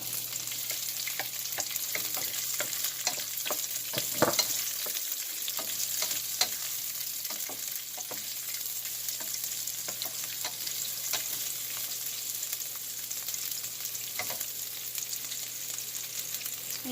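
Chopped onion fries in a hot pan with a dense, steady sizzle and crackle, joined by scattered clicks and scrapes of stirring, close and continuous with no talking.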